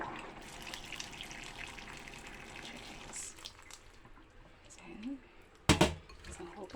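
Hot water pours over oregano leaves in a container, a soft close trickle and splash running for several seconds, fading, then a short louder clatter near the end; a voice talks over parts of it.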